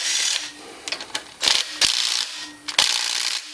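Power tool driving a socket on 12mm bolts of a Honda Fourtrax 300 engine, with several loud close bursts of whirring and clicking separated by short pauses.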